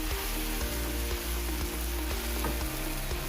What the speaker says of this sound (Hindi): ताकि सब्ज़ मिर्च और लहसुन भी फ्राई हो जाए।